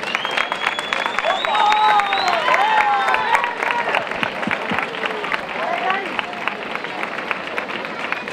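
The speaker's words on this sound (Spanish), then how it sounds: "Un aplauso para ellos." An audience at a village festival gives a warm round of applause as the year's Olivar couple is called up, dense clapping mixed with crowd voices and a few cheers that swell and then settle.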